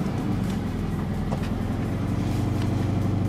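A Scion FR-S car engine with a cold air intake runs with a steady low rumble close by, no voices, just the continuous hum of the motor.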